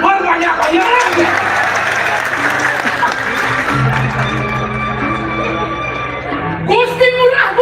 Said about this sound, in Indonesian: Tepuk tangan berbanyak-banyak.